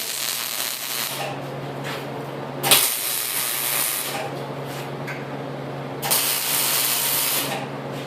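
Hissing, crackling welding on steel window security bars, a steady sizzle that runs for several seconds, pauses briefly and then resumes, close and moderately loud with no talking.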